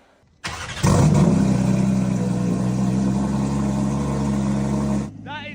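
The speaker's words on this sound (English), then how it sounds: "Cold start, GT3 RS." A Porsche GT3 RS cold-starts indoors on a ramp with a sharp crank, then a loud flare of revs that settles into a high, steady idle before shutting off, with a voice speaking briefly afterward.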